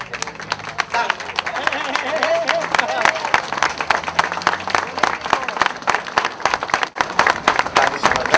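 Audience applause for the performing artists at an event marking the Minister of Justice, dense and steady clapping throughout with crowd noise and voices mixed in.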